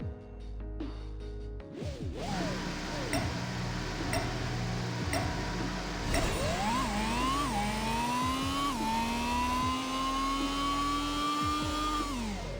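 A race car engine in the video game Apex Racer revs hard on a half-mile run, its pitch climbing steadily and dropping at each gear shift, loud and continuous throughout.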